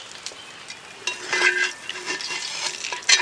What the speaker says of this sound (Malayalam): നമുക്കിതിനകത്ത പൊടിയൊക്കെ അങ്ങ് വടിച്ച് കോരിയെടുക്കണം.